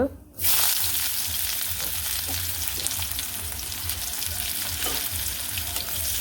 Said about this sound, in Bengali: এখন পেঁয়াজগুলো প্রথমে ভাজি করে নিব